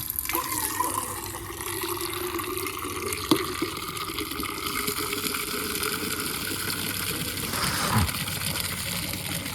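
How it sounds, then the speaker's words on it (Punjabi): Water pours and splashes steadily into a container at a pigeon coop, a continuous filling rush with a couple of faint knocks. "ਤੇ ਇਹ ਪਾਣੀ ਪਾ ਦਈਏ"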